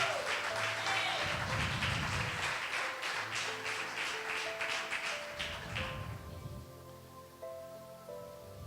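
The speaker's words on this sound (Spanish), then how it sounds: "Dale un fuerte aplauso." A church audience claps during a sermon, a brisk, moderate patter of applause over soft sustained music that thins out and fades after several seconds, leaving the music alone.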